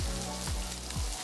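Prosciutto frying in a pan, a soft close sizzle with faint crackles and a couple of brief stirring scrapes, quiet and alone.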